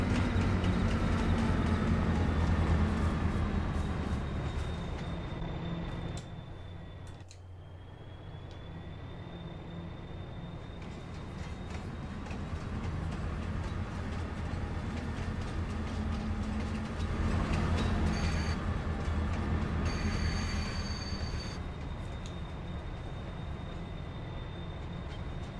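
A train in the Farming Simulator 22 game rumbles past on the Zielonka map, a loud, steady low rolling drone across the whole span with a brief dip midway and faint high whines above.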